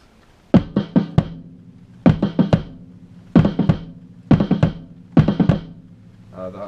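Drums played one-handed in short grouped bursts of several quick hits, five clusters separated by brief pauses, close and punchy with no voices.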